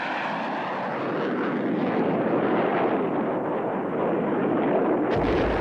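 A Harrier jet roars continuously and loudly overhead, a dense steady engine rumble that swells slightly and holds without pause.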